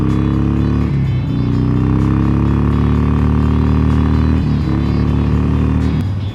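A Harley-Davidson Forty-Eight motorcycle's V-twin engine revs loudly and close, rising and falling in several throttle blips with deep rumbling tones, no talking over it.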